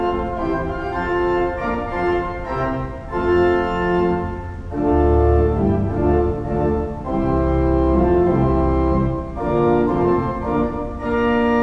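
Pipe organ at Henderson First United Methodist Church, an M. P. Rathke instrument, sounding its 8, 4 and 2 foot principal stops together in bright, full sustained chords that shift through a slow passage, with no talking.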